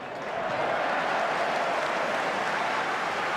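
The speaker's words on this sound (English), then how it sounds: "every touch kick by the Scots now is being clapped furiously by the crowd" Dense, sustained applause from a large stadium crowd at Murrayfield, greeting a touch kick by Scotland during the 1990 Scotland v England rugby match, a steady roar of clapping that swells quickly and holds loud throughout.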